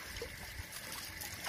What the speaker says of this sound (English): Putting water into the hose.